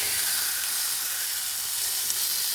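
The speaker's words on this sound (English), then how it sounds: "Hold it together with your tongs and place it in the hot frying pan." A steak seared in a hot frying pan gives off a steady, loud, bright sizzle and hiss, unbroken for the whole stretch with no voices over it.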